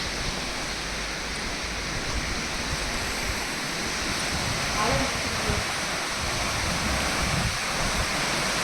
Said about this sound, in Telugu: మొత్తం అలలు వచ్చేస్తున్నాయి, ఇది నీళ్ళు వచ్చేస్తున్నాయి